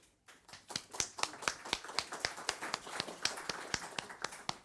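Scattered clapping at a formal conference on the coalition against Daesh, sounding as a sparse, quick and fairly even run of sharp claps rather than a full crowd.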